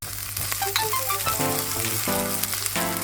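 Ginger, garlic and chopped spring onion sizzle briskly in a pot of hot oil, a close, continuous frying hiss with short clinks of a utensil.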